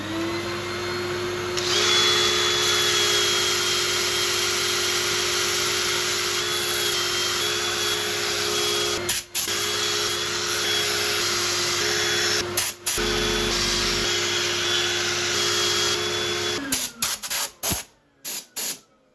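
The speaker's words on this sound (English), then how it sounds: "I'm going to set up for sanding again" Sanding a woodturning piece on a lathe: a continuous, steady mechanical whir and rasp with a constant motor hum, running evenly for most of the time with a few brief interruptions before stopping in choppy bursts at the end.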